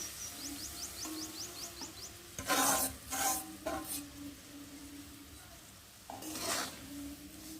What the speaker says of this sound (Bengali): আর আমি এই ভেজে রাখা সুজিটা এখন এর মধ্যে ঢেলে দেবো।